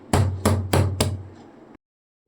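Four firm, evenly spaced knocks as a frozen block of homemade paneer is tapped out of its mould, each a dull thud with a short tail, ending in a soft clunk and silence.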